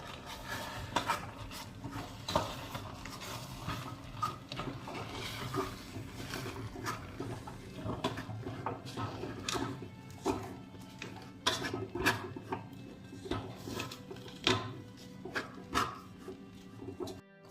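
Rice flour is stirred in a pot for vattu pathiri, with repeated scraping and knocking of a spoon against the vessel, moderately quiet, with faint background noises.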